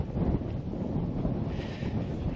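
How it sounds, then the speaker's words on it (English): Steady, blustery wind buffets the microphone, a low rumbling roar that continues throughout without letting up. "Always windy, always a breeze."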